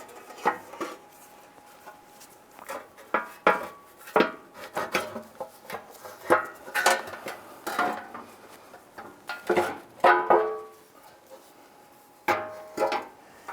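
A metal oil pan is worked up into position under a 2002-2008 Dodge Ram 1500, giving a string of close, irregular metallic clanks and knocks with short quiet gaps and no talking.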